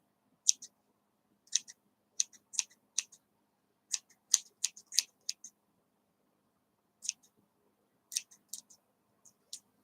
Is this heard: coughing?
no